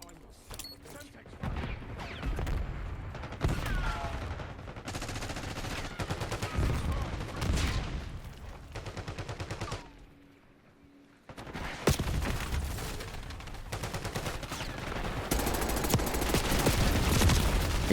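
Rapid bursts of KSV automatic rifle fire in the Black Ops 6 video game, several sharp rattling volleys with a short silent gap midway, punctuated by in-game mechanical clicks and booms, with a player talking at times.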